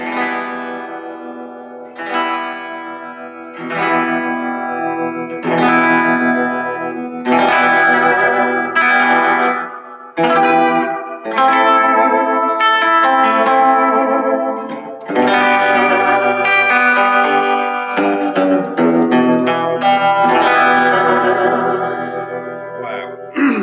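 Gretsch G5420T electric guitar strummed and picked through effects, chords ringing out loud with chorus and echo, played alone in a steady sequence.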